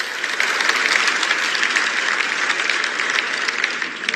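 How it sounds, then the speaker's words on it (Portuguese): Steady, dense applause for Lula at a United Nations gathering, a broad wash of clapping hands that holds at an even level throughout with no voices rising above it. "E aí o Lula aplaudido de novo."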